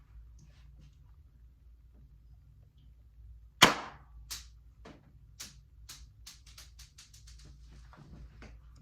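Cheap all-plastic spring-powered 1911 BB gun firing once, a single sharp snap followed by faint clicks and rattles of handling, fairly quiet and close.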